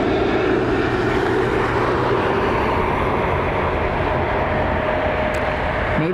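Delta Connection jet airliner at Cleveland Hopkins airport, a loud, steady broadband engine roar holding for several seconds with a faint whine above it.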